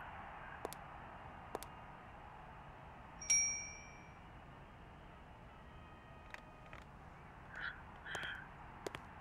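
A bell rings once in the adventure game Syberia, a bright chime fading over a second amid faint clicks and soft background noise, with no speech.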